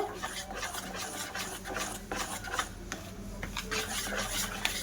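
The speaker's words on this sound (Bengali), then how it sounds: "কেকের ব্যাটারটা ভালো করে মিশিয়ে নেব" Mango cake batter with white oil being mixed by hand in a bowl, a steady scraping, rubbing stir with light clinks of utensil against the bowl, close and continuous.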